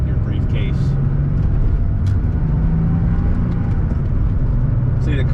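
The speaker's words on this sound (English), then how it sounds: "See, the car really shifts well." A 1988 Porsche 911 with a G50 gearbox drives along with a steady engine and road rumble, heard from inside the car, while someone talks over it.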